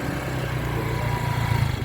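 A motorcycle engine drones steadily on a village road in West Sumatra, a continuous mid-pitched hum that stays close and fairly loud with slight swells in intensity.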